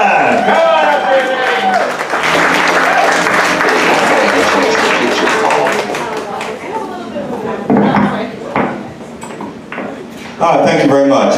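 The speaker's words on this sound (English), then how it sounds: "Another round of applause, please, for Jill, Matt, Mike, Jake, our sound guy." A comedy club audience applauds as a comedian comes up on stage, loud sustained clapping that thins out toward the end, with voices and a speaker breaking through near the close.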